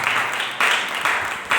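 A church congregation claps in steady, dense bursts of applause, loud and close, with no talk over it.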